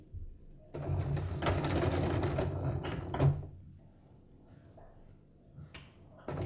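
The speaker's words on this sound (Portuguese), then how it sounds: "Baixo a agulha, dou os pontinhos, dou o retrocesso até o fim." Domestic sewing machine stitching patchwork fabric and backstitching, a fast loud rattling run of needle strokes up close, then a pause, with lighter clicks and a short burst of stitching at the end.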